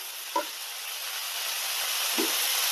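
Chopped onion and cabbage sauté in a hot pan for a samosa filling. A steady, even sizzle runs throughout, with two brief spatula scrapes, one near the start and one near the end.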